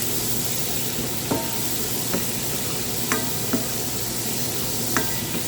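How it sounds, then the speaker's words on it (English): Snook fish fry in oil with spices, giving a steady, close sizzle and hiss. A few light clicks of stirring break through at irregular moments. "It's the fish that I fry in the oil."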